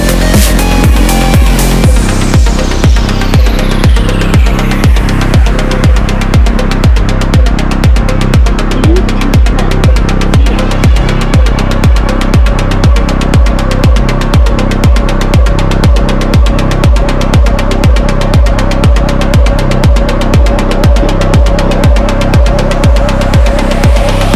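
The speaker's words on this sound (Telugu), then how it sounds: "అక్కడి నుంచి మళ్ళీ ఆ సీ ఘాట్ నుంచి మా బోటు దశాశ్వ ఘాట్కి వచ్చిందండి" A motorboat engine on the Ganga at Kashi chugs with a steady, loud, rhythmic throbbing pulse, heard close and continuous throughout, with faint background sounds beneath.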